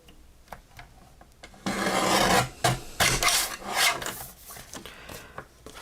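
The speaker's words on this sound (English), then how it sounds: "it has that torn edge, so I'm just going to trim that off a little bit." Paper card with a torn edge being trimmed, a close rasping, rubbing cut that starts abruptly partway in and runs in uneven strokes before fading.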